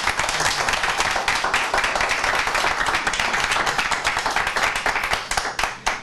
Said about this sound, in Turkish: Arkadaşlarımıza büyük bir alkış alalım.